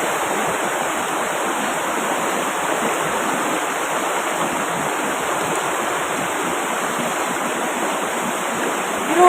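A flowing stream, a steady broadband rush of running water close by, constant and fairly loud from start to finish with no voices.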